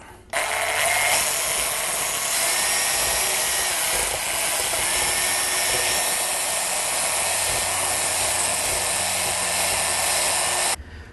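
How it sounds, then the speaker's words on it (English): A power drill runs steadily for about ten seconds, a continuous whirring motor with a slight grinding, churning texture as it whips thick cream cheese. "using my drill then, I'm going to start whipping this up to soften this up a little bit"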